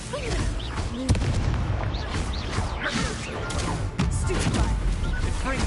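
Confringo blasting-spell explosions in the Hogwarts Legacy video game on PS5 burst in repeated crashing booms and thwacks amid busy combat noise, with game voices talking in between.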